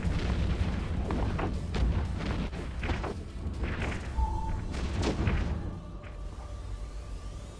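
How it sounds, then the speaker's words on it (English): Spaceship explosions in a space battle from the video game EVE Echoes, a dense series of booming thuds and bursts over a constant rumbling background, with no talk. "Now we see a second explosion"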